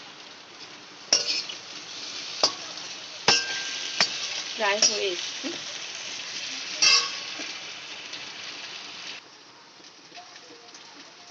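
Potatoes frying in oil in a home kitchen pan, with a light sizzle under intermittent clinks and scrapes of a spatula, then stirring. Someone says a few words partway through.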